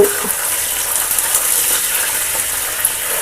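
Green chillies and a few dried red chillies frying in a pan for a Telangana-style poha tempering, a steady close crackling sizzle with small pops throughout, no talking.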